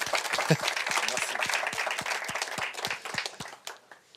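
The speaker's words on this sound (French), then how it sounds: "On peut l'applaudir encore" Audience applause at a French Tech Day pitch competition, a crowd clapping together with distinct claps audible, fading out near the end.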